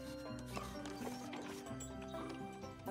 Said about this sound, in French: Comme des calèches tirées par des chevaux.